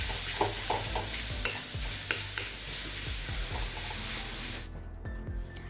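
Bottle gourd curry with fish head frying and being stirred in a pan, a steady sizzle with repeated scraping strokes of the spoon, close and fairly loud, cutting off near the end.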